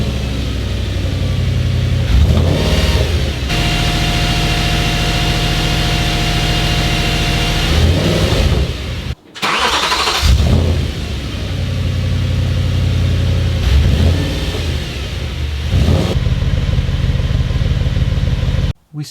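Engine of a B7 Audi RS4 cranking and running at idle, loud and close and steady throughout, with a short cutoff and restart near the middle.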